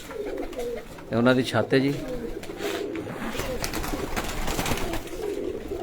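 Teddy pigeons coo on a rooftop, one clear rolling coo standing out close by over a noisy open-air background, while someone talks nearby.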